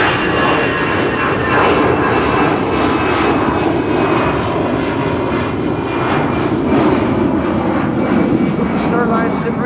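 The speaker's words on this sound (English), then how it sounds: "KLM flight 605, 787-10 Dreamliner to San Francisco" A KLM Boeing 787-10 Dreamliner jet takes off from Amsterdam Schiphol Airport, its engines producing a loud, steady, broadband roar that fills the whole stretch without letup.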